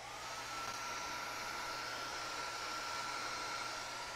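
A hair dryer blows steadily up close with a constant whooshing roar and a thin whine, drying UNiCORN SPiT stain on an Oramask vinyl stencil over wood, with no talking.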